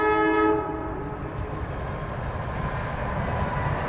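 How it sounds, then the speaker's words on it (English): A train's horn blasts loudly for about half a second as it passes a fishing pond, then the cars keep rumbling by steadily. "Comes the train."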